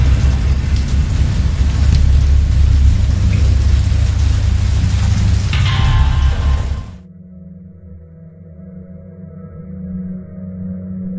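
Heavy rain pours down with a deep rumbling of thunder, loud and steady, then cuts off abruptly to a quiet, low hum.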